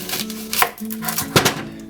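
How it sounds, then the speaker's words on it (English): A kitchen knife halves onions on a cutting board for a pork belly roast, giving two sharp, close chops about a second apart over a low, steady background hum. "So get your onions, halve them"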